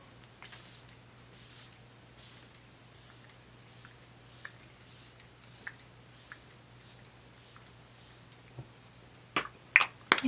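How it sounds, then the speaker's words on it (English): Hourglass Veil Setting Spray misted onto a face in a quick series of about a dozen short, evenly spaced hissing spritzes, close and fairly soft, with a few sharper clicks near the end. "I'm going to use my Hourglass Cosmetics Veil Setting Spray."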